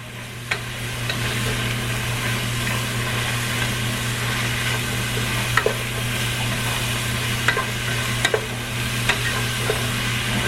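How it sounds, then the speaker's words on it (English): Chili ingredients tipped into a pot and stirred, a steady bubbling sizzle over a low humming drone, with occasional sharp clinks and taps of a utensil against the pot scattered through the stretch. "we just dumping it all in our pot"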